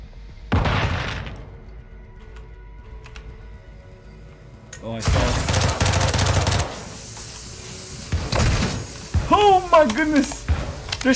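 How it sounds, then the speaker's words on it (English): Gunfire from shotguns and other weapons in the Call of Duty: Modern Warfare II campaign finale, loud bursts of sharp blasts with chaotic battle noise, broken up by quieter stretches, and voices talking over the fighting. "They're sniping me with shotguns."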